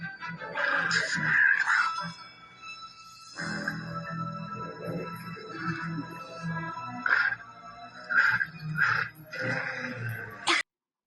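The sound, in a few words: Pomeranian dog barking and whimpering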